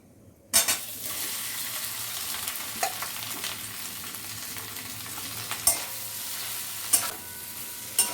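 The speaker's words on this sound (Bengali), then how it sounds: "এবার আলুগুলোকে দিয়ে দেবো।" Raw potatoes drop into a hot pan of oil and asafoetida for a potato-and-pea curry, setting off a sudden steady sizzle, with occasional sharp scrapes and knocks of the stirring spoon against the pan.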